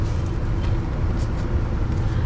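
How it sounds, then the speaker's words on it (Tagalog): A parked car idles steadily while warming up, a low continuous rumble holding evenly throughout with no revving. "Nagpapainit lang ng sasakyan si Baroni."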